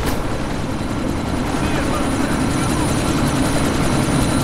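Helicopter in the video game Deus Ex: Mankind Divided, a steady loud rotor and engine drone with dense chopping throughout, continuous and close.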